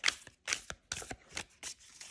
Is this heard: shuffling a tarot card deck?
yes